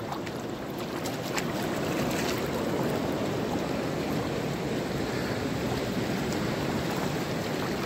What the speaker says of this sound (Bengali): এটা হচ্ছে মন্দাকিনীর জল, এটা হচ্ছে মন্দাকিনীর জল।